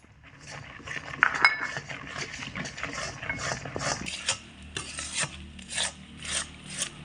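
Rice flour and sugar syrup batter for arisa pitha is stirred steadily in a pan, giving continuous rasping, scraping strokes with occasional light clinks of the spoon against the metal.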